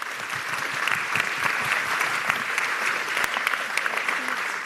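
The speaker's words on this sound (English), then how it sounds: "Let's give them a round of applause." Applause at a mayoral town hall meeting, a crowd clapping steadily and fairly close for several seconds, with a few sharper individual claps and faint voices mixed in.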